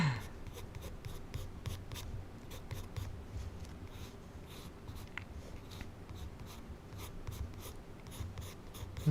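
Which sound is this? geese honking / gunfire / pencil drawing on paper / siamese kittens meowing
pencil drawing on paper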